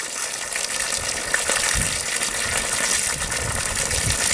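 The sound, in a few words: water draining from a barrel through an opened valve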